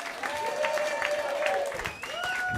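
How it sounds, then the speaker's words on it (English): Comedy club crowd at New York Comedy Club applauding a comedian's arrival, steady massed clapping with some cheering voices rising over it, fairly distant and sustained throughout. "Start clapping for the very funny Drew Beekler"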